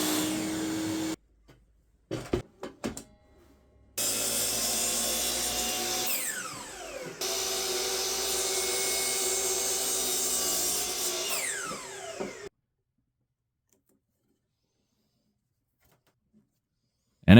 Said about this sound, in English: And then I cut the actual strip that will be used as the fixation system.